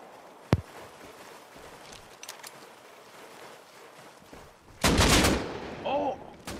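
Gunfire in the Rust video game: one sharp isolated shot early, a few faint distant pops, then a loud sustained burst of automatic fire, with a voice talking briefly at the end.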